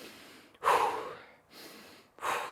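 Heavy breathing during a short rest in a TRX workout: a quiet inhale, then a loud, close exhale, then another soft breath and a second strong exhale, alone with no talk.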